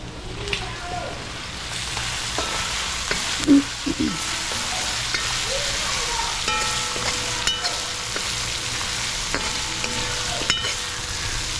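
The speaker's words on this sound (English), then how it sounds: "Time to take this fried up meat." Meat frying in a pot for a Trinidadian Sunday lunch, giving a continuous loud sizzle with occasional stirring clatters and scrapes throughout.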